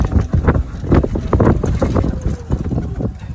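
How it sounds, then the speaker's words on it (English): Golf cart driving on a course, a close, rumbling motor and buffeting wind noise across the microphone, continuous and rough throughout. "he's trying to race me in the golf cart."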